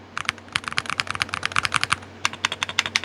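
Fast typing on a Monsgeek Fun 60 Hall effect mechanical keyboard fitted with pink keycaps, a close, crisp run of clacky keystrokes with a short pause midway, no voices.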